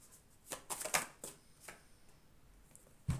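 Tarot cards are shuffled and handled for a card reading, a few soft riffles and flicks close by in a quiet room, ending with a light tap.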